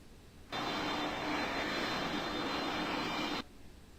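An airplane taxiing toward runway 25L at Greater Rockford airport gives off a steady, fairly loud engine roar that holds for about three seconds before dropping away; no one speaks.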